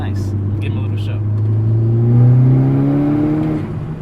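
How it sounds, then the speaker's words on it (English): A tuned Volkswagen Golf R MK6 with a Unitronic Stage 2 setup pulls hard in third gear, its engine note rising steadily as it accelerates, heard from inside the car, with a voice talking briefly at the start. "It's so good how it just pulls hard in third now."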